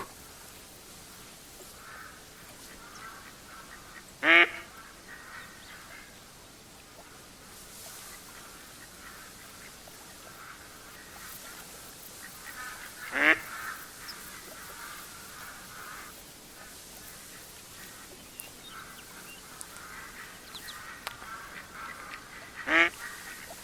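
Ducks quack during a duck hunt in open outdoor surroundings: faint scattered calls sit in the background, and three louder, sharp quacks ring out at long, spaced intervals.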